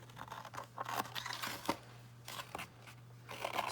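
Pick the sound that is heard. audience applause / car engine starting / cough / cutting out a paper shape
cutting out a paper shape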